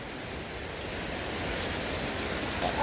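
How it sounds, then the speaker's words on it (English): Fast-moving floodwater in a river in Townsend, Smoky Mountain National Park, makes a continuous, broad, loud rushing roar that holds steady without pause or voices. "It's the water moving so quick."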